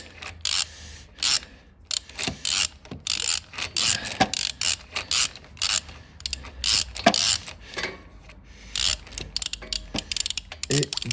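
A ratchet wrench unscrews the spark plug on a Honda FX 650 motorcycle engine, producing close, repeated bursts of rapid metallic clicking with short pauses between strokes.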